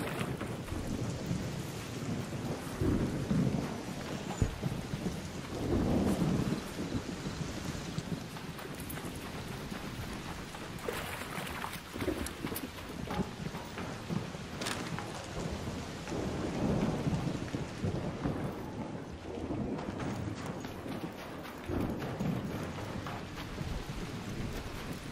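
A video game thunderstorm with lightning and steady rain, with rolling thunder bursts swelling repeatedly over a continuous downpour; no voices.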